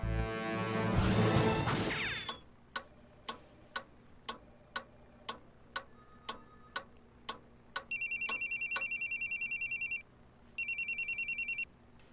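A brief burst of noise, then a steady clock-like ticking, followed by two bursts of a trilling electronic telephone ring.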